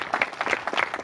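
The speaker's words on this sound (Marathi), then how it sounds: "एकदा जोरदार टाळ्या या तरुण बांधवांसाठी" An audience applauds at a public speech event about a Shivaji memorial in a village, a dense, steady patter of clapping filling the short moment at close range.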